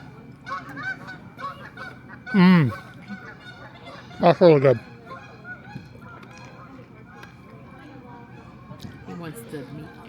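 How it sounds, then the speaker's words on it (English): A goose outdoors honks loudly nearby, one harsh honk and then a quick double honk a couple of seconds later, over ambient noise while people chat casually. "Maybe the goose will come and eat it."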